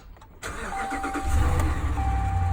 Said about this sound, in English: Let's see if the vehicle starts up.